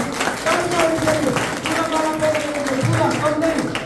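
A crowd claps steadily at a youth convention underneath someone speaking loudly in Hindi over a microphone, the clapping a continuous patter behind his voice.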